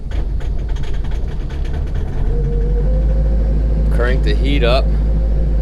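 A Ford F-550 Powerstroke diesel truck idles with a steady, loud low rumble that builds and holds through the clip, while someone speaks over it near the end.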